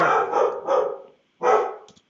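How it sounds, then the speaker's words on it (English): Dogs bark in two loud, close bursts, the first a rapid run of three or four barks and the second a single bark after a short pause. "Just ignore my dogs barking."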